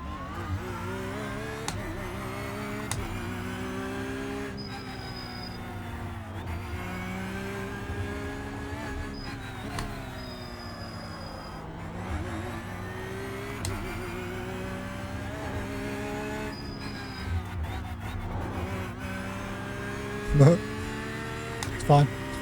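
Porsche GT3 race car in a racing sim leaving the pits at Knockhill, its engine droning steadily with rising and falling revs throughout, with a couple of short sharp bursts near the end.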